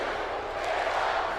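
Arena crowd roar from a WWE 2K18 SmackDown tag-team wrestling match between New Day and the Usos, a steady, dense wash of cheering that holds level for the whole moment.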